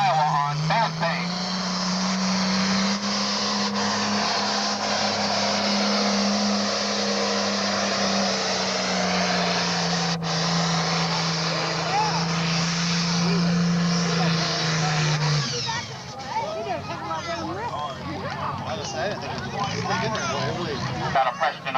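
An International 1466 farm tractor in a super farm tractor pull, its engine roaring loudly with a sustained, slowly falling pitch that shifts to rougher, choppier noise near the end.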